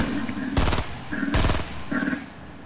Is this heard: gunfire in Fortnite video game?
yes